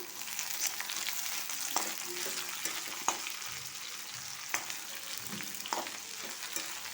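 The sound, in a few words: tomato curry frying in a pan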